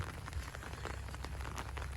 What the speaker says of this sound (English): This rain really helps a lot.